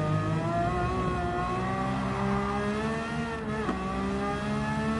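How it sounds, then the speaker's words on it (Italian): A Ferrari F50 racing car engine in Gran Turismo 7 roars steadily at high revs, its harmonic whine holding and shifting slightly, loud and continuous with no talk. "Motorazzo Ferrari, sentite il rombo"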